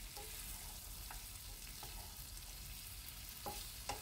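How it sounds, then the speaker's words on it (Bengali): Fresh green pumpkin stems mixed with vegetables and spices in a pan, a soft continuous sizzle with a few sharp spoon scrapes and clicks, quiet and close, with no talking. "সেটাকে সব সবজির সাথে ভালোভাবে মিশিয়ে নিচ্ছি"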